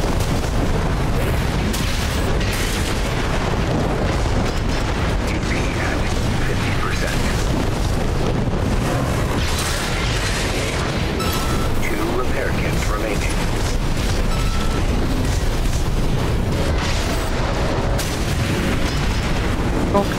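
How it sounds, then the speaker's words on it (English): Swarm missiles detonating in Armored Core VI combat, a dense continuous barrage of booms and mechanical clatter, loud and unbroken throughout with a voice talking over it. "I like their little swarm missiles."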